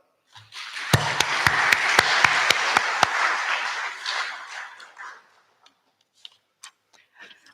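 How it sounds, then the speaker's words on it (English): Graduation ceremony audience bursts into applause, a dense wash of clapping lasting several seconds, with a few sharp louder claps at the start; it fades out into scattered faint claps. "we should applaud them"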